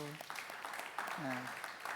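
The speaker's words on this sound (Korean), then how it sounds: "박수" A church congregation claps faintly during a Sunday worship service, a soft, brief patter of applause with a voice speaking over it.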